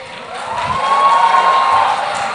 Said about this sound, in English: with a big round of applause, let us welcome Prajakta Kohli